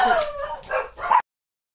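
Dogs indoors letting out a short series of yelping, whining barks, close and loud, about three bursts in just over a second before cutting off to silence.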